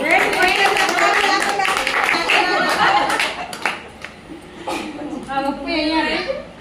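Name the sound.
group clapping at a kitty party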